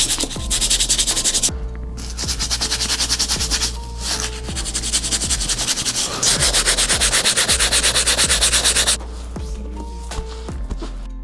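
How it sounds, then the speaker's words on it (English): Stiff sole brush scrubbing gunk from the sole of an Air Jordan 12 sneaker: loud, steady rapid bristle rubbing that runs almost continuously with brief pauses, close up, no talking. "so we gotta use the stiff sole brush to try to get that stuff out"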